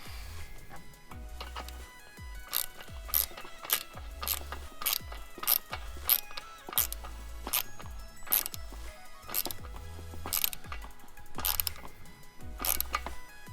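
A ratchet tightens the fitting on a Mishimoto coolant tank being installed in a Ford Mustang GT, making steady, rapid mechanical clicking in repeated bursts, close up and clear, with no talking.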